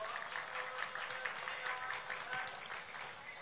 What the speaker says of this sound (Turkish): Onlar için de bir alkış istiyorum sizlerden.